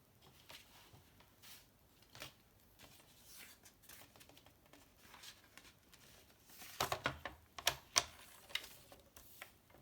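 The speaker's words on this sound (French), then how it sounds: "Donc je vais couper." Fabric for a Christmas organizer pouch being cut, a run of faint, quiet snips and crisp clicks that grows denser and louder toward the end, with no talking.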